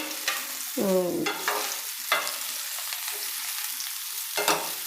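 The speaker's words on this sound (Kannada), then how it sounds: "ಫ್ರೈ ಮಾಡಬೇಕಾದ್ರೆ ಚೆನ್ನಾಗಿ ಡ್ರೈ ರೋಸ್ಟ್ ಆಗಬೇಕಿದು ಎಣ್ಣೆಯಲ್ಲಿ" Thick-cut cauliflower pieces roasting in oil in a pan, a quiet sizzle punctuated by a few sharp spatula scrapes and a ringing metallic clink, close and without voices.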